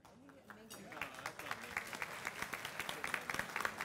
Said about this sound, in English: And applause for you, Heather.